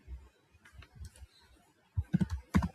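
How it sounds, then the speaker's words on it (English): Fingers tap on a computer keyboard nearby in irregular clusters of soft clicks, pausing briefly before a quicker, louder burst of keystrokes; no one speaks. "So let me type"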